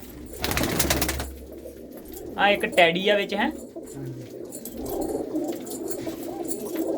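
Red-eyed flock-flying pigeons coo softly in the background while someone talks nearby, with brief bursts of handling noise.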